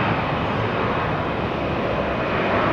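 Delta airliner departing Tampa International Airport: a steady, loud jet engine roar holds without pause across the whole stretch, with no voices.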